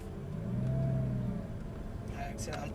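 A Lamborghini on the Sambuc race circuit gives a steady, loud low engine drone that swells gently and then eases off, with a voice speaking over part of it.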